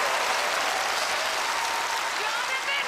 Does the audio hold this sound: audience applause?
yes